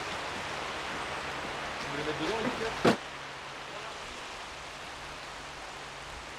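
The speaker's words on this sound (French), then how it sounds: "Et la pluie qui revient." Rain falling outdoors in a garden at a villa entrance, a soft continuous hiss across the whole stretch, with a person speaking French briefly in the middle and a short knock near the center.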